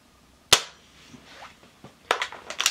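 A Diana Mod 6 air pistol fires one sharp, close crack. A few faint knocks and handling clicks follow, and then quieter clattering sounds.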